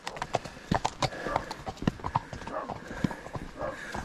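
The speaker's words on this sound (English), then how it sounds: "And then you see some little ponies coming up." Horses walking along an Irish hillside trail, hooves clip-clopping in an uneven, close rhythm of scattered knocks, with a faint voice in the background.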